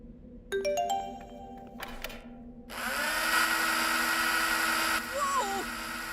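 Power drill in a video game whirring up and running with a steady high mechanical whine after a chiming tone, fairly close and loud.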